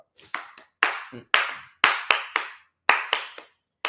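Sharp individual hand claps ring out in a church, close and crisp, arriving in an uneven rhythm of roughly eight strikes with short silences between them.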